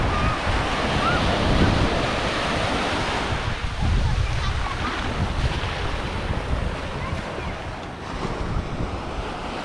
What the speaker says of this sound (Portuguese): Essa é a Praia do Pontal.